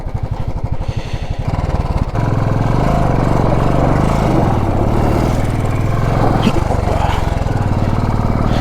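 A Royal Enfield Classic 350 motorcycle engine thumps steadily while climbing on a highway under construction, a loud, close single-cylinder rumble that continues without a break.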